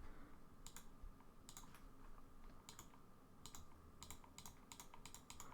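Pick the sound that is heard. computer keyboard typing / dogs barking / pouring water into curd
computer keyboard typing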